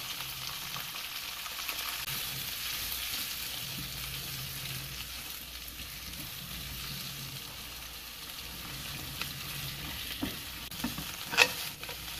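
Eggs frying in a pan after a sprinkling of pepper and salt, a soft, continuous sizzle with occasional light stirring scrapes and a few small clicks near the end.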